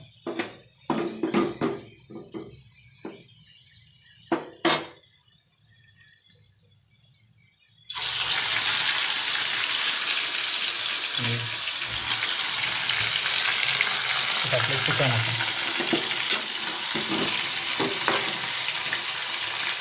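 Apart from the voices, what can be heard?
chicken sukka frying and being stirred in a pan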